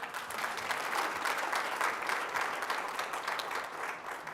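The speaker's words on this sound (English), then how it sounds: "The claps are for you guys because you paid the bond." Audience at a sales and marketing conference breaks into steady, dense applause, many hands clapping continuously at close range for several seconds with no voices standing out.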